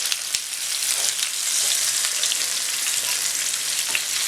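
Turkey wings frying in a pan over medium heat, a steady close sizzle and crackle that holds at an even loudness throughout, with a few small pops and no voices.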